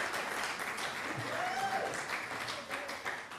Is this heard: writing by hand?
no